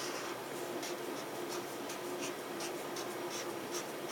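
An orange crayon dragged across yellow paper in a children's art lesson, a dry scratchy scribbling of repeated short strokes in an even rhythm, close and fairly loud, with no talking.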